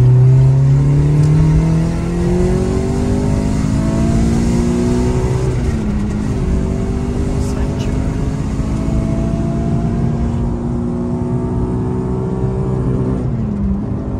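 A Renault Clio 3 RS Cup accelerates hard and loud from inside the cabin, its engine note climbing through several gear changes with a steady roar and faint crackle throughout.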